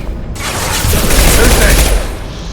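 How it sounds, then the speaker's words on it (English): Concussive shot ability fired in Mass Effect 2: a sudden loud forceful blast that then crackles and rumbles for about two seconds amid combat noise. "Concussive shot."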